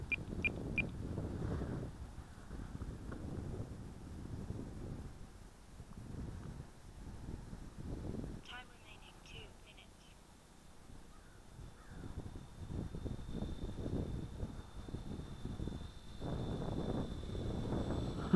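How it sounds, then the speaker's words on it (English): Low rumbling wind buffets the microphone at a small-plane airfield, with gusty surges rising and falling and faint bird calls in the background. "A little bit windy."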